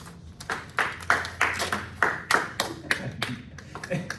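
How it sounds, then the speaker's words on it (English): A small audience at a club meeting claps in sparse, uneven bursts of distinct individual claps, fairly close and never building into full applause. "There's nothing worse when you start clapping for yourself and then no one takes up that clap"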